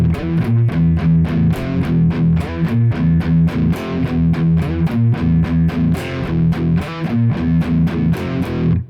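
A loud, distorted electric guitar plays a riff, with tight palm-muted chugs and ringing accents in a driving, steady rhythm, played alone.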